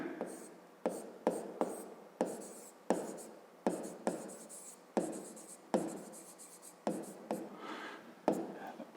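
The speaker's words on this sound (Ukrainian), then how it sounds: "Пишемо трикутник." Chalk or pen strokes written by hand for a grade 5 maths exercise on triangles, in a steady series of short scratchy bursts with brief pauses between them, close and clear with no talking.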